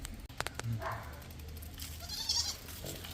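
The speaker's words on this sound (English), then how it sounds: "Hey, little goat." A goat at a rural farmstead in Thailand gives a couple of short, nearby bleats against quiet outdoor background, with faint scattered clicks and rustle.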